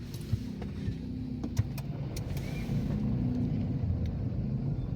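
A car is switched on with a DDPAI Z90 three-channel dashcam fitted, a low steady engine rumble under brief clicks and short electronic chirps from the dashcam starting up, rising slightly midway.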